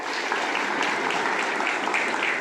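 Brief burst of applause from an assembled group at a joint school assembly, dense clapping throughout, steady and fairly loud, with no speech over it.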